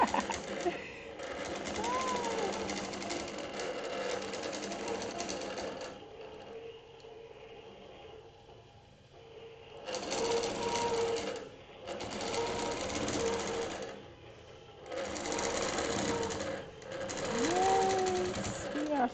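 Longarm quilting machine stitching a small quilt, a fast rattling hum in several bursts of a few seconds each, separated by quieter pauses, with soft talk in the background.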